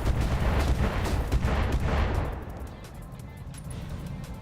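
Heavy weapon fire from a BattleTech mech battle in the 3062 era, a dense roar of rumbling blasts and booms for about two seconds before easing into a lower sustained rumble.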